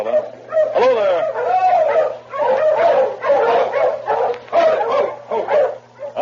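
A team of sled dogs close by barks, yips and whines in restless, overlapping bursts, with a low steady hum underneath throughout.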